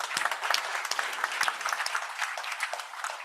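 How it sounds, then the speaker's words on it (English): A crowd applauds in a steady, dense burst of clapping that fills the room without a break from start to finish. "I want to give them a round of applause again."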